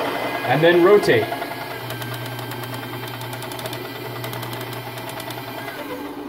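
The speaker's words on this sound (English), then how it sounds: "So we turn on the grinder with this button here," An espresso coffee grinder switches on after a brief spoken remark and runs with a steady, close mechanical hum, overlaid by a faint rapid clicking throughout.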